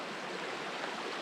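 A big waterfall in a mountain gorge, a quiet, steady broadband rush of falling water heard from a distance, with no voices.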